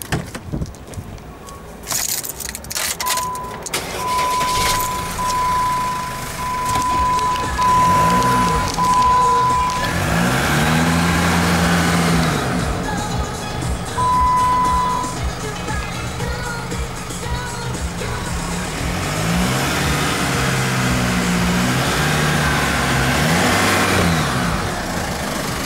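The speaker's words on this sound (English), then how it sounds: "I will just go and start the car up for you now as well, so you can have a listen to it" A truck engine turns over and settles into a steady idle, then revs a few times, loud and close with no talk.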